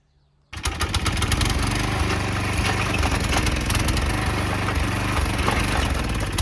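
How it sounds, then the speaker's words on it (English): An old garden tiller missing two blades starts after a moment of near silence and keeps running: a loud, close, rattling small engine with a steady rough chug. "That old tiller will beat you to death because it's missing 2 blades."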